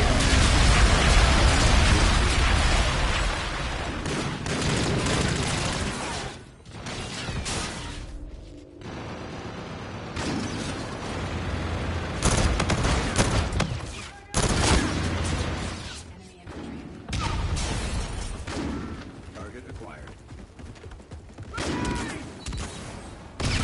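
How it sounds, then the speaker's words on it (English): Heavy bombardment in the Call of Duty Infinite Warfare Continuum DLC: sustained volleys of gunfire and explosions roll on in dense loud stretches, broken by several brief quieter gaps before the barrage resumes. "Enemy bombardment incoming."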